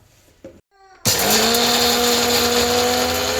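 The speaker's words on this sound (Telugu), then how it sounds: "మూడు వేసి గ్రైండ్ చేయాలి మెత్తగా గ్రైండ్ చేసుకురాకు" An electric mixer grinder grinding garlic, cumin and coriander seeds starts abruptly after a moment of quiet and runs as a loud, steady whirring whine close by.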